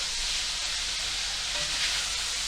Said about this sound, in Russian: Обжариваю лучок.